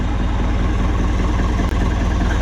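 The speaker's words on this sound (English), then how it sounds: "How do you like the new tractor?" A new farm tractor fitted with a new exhaust idles steadily and loudly close by, a low continuous rumble with an even mechanical pulse and no talking.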